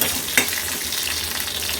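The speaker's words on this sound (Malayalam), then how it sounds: "കടുക് പൊട്ടുമ്പോൾ നമുക്കിത് വാങ്ങാം." Mustard seeds crackle and sizzle in hot oil as tempering for a Kerala-style colocasia curry, a dense steady frying hiss with one sharp pop, close and alone.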